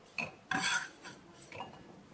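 Chopped pumpkin pieces go into a bowl with a few short clinks and scrapes in quick succession, fairly quiet and close, with no voices.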